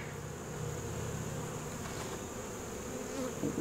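Honeybees buzz at a hive during a late October colony inspection, a steady, close, dense drone that holds evenly throughout with no talking.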